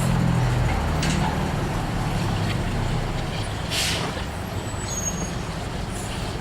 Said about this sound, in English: It's a bus.